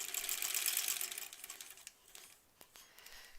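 A sewing machine stitches backwards over earlier stitches while piecing a quilt block, giving a fast, steady mechanical whir. The whir tapers off into a few faint clicks and taps.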